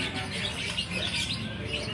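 A pair of black magpie-robins (kacer wulung) sing at a bird training venue, with several bright, quick chirps and whistles over a faint, busy background hum.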